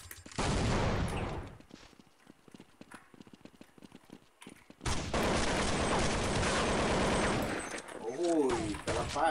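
Gunfire in Counter-Strike 1.6 during a bomb-plant round, bursts of rapid shots crackling in two dense stretches with a quieter gap between, fairly loud and continuous, with a player voice over part of it.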